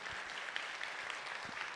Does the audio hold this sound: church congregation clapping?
yes